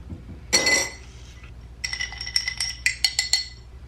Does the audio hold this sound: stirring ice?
yes